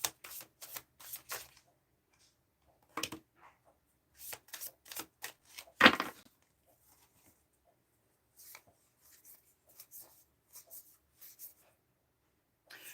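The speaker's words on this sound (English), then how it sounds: "if I shuffle twice all the way through, nothing pops out" Tarot cards are shuffled by hand in short crisp riffling bursts, close and fairly quiet, with gaps of silence between the shuffles.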